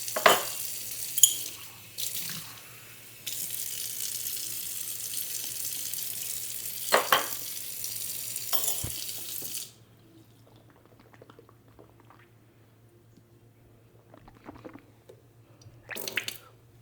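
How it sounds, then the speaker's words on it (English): Someone rinses their mouth with water at a sink: a long run of rushing tap water with sputtering and splashing, then it cuts off, leaving a few quiet swishes and drips. "It's actually time for me to rinse my mouth."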